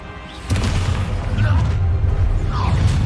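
Bombarda, a blasting spell in the video game Hogwarts Legacy, explodes as a deep booming blast, loud and close, rolling into a sustained low rumble with scattered crackling debris.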